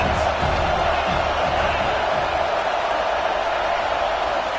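A loud football stadium crowd roars and cheers steadily, a dense, sustained wash of many voices with no breaks, heard from within the stands.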